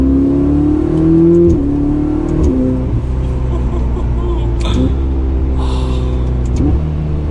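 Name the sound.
Ferrari 488 Spider V8 engine revving during test drive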